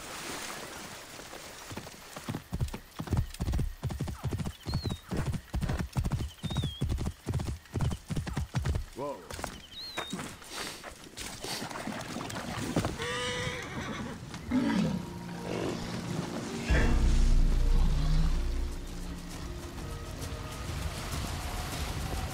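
Hoofbeats of a horse galloping in Assassin's Creed Origins, a fast steady clip-clop through the first half, then slowing, with a horse neigh and heavier game ambience and effects afterward.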